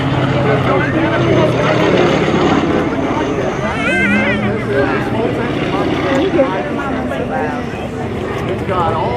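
An open-cockpit Pitts Model 12 aerobatic propeller plane drones and roars as it passes at the 2023 Canadian International Air Show, its pitch shifting, while people talk loudly over the engine noise.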